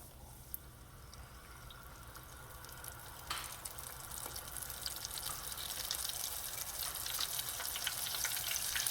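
Battered calamari pieces sizzling in hot oil in a frying pan, a steady bubbling hiss that gradually grows louder and denser, with no voices.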